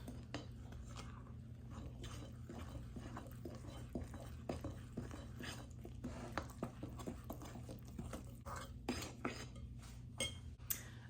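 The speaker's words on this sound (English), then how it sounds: "just mix it all together until it's really well combined" Cornbread batter mixed with melted butter in a bowl, faint repeated clinks and soft scraping of a utensil in an irregular rhythm, quiet and close.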